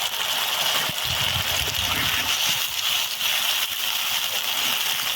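Water pours in a steady gush onto chicken curry spices in a pan, a loud continuous rushing splash lasting the whole stretch, close and alone without talk.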